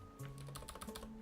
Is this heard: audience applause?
no